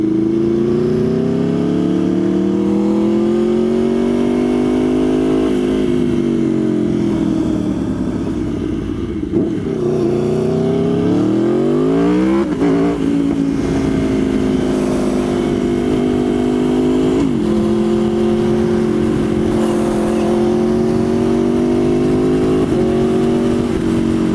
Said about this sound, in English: just quick shift. Done. It actually comes in handy sometimes, and it sounds sick.